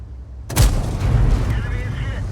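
FV215b tank firing a HESH round in World of Tanks: one heavy, close cannon boom with a long rumbling tail, set against a constant low engine drone.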